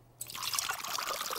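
Water is poured into a large jar, a sudden splashing trickle that starts after a brief quiet and then keeps running steadily, close up and fairly soft.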